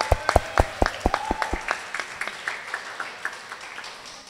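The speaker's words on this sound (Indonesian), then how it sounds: "Tepuk tangan dulu untuk kita semua." Applause from a school theater audience at a Sumpah Pemuda performance at SMA IT Insan Mandiri Cibubur. Sharp, separate hand claps from a small crowd fade quickly into a sparse, softer patter.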